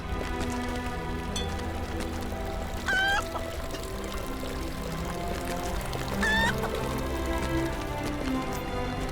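Two short clucking calls from a chicken in Lord of the Rings Online, standing out briefly over steady rain-like background noise and a low drone.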